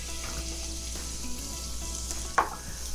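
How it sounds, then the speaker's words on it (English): Onions sauté in canola oil, giving a low continuous frying sizzle with a brief clatter of stirring near the end, close and moderately quiet, with nobody speaking. "My first thing to do is to go ahead and saute the onions"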